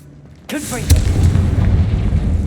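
Confringo explosive spell from a Harry Potter video game: a sharp whoosh, then a loud booming blast that rolls into a rumbling tail, up close.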